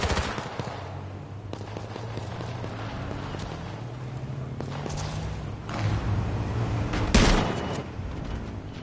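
Gunfire in the online survival shooter H1Z1, a busy spread of shots and thumps under a rumbling vehicle-like drone, with a louder burst near the end.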